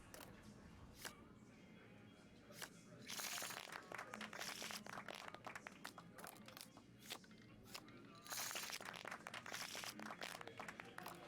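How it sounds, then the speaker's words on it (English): Casino crowd in Fallout: New Vegas cheering and clapping in two loud bursts over a steady bed of game ambience and chatter, with scattered claps between. "I love how the other patrons cheer for me when I win."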